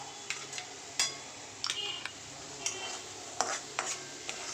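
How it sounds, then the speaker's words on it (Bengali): Cashew and almond paste fried and stirred in a pan, sharp spoon scrapes and clinks in scattered strokes over a soft continuous sizzle, near and quiet, with no speech. "দেখো ভালো করে নেড়ে এটা একটুখানি হালকা একটু কষিয়ে নিই"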